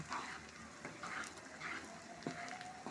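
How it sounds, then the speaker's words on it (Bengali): Garlic fries in foaming mustard oil with mustard paste, a faint close sizzle broken by soft stirring scrapes and small clinks at an uneven pace. "দেখুন রসুনটা দেওয়ার সাথে সাথে তেলটা ফেনা ছেড়ে দিচ্ছে।"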